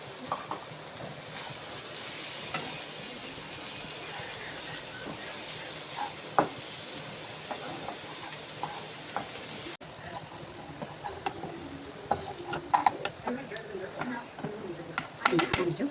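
Chana dal frying in a pan, a steady broadband sizzle with occasional scrapes and small crackles from stirring, moderately close and continuing throughout.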